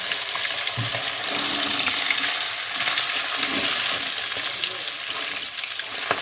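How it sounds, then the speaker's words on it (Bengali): Sea kokila fish frying lightly in oil in a pan, a steady close sizzle with stirring noises across the whole stretch and no voices. "এভাবে সব কটা মাছ ভেজে নেবে হালকা হালকা করে ভাজা করা করবে"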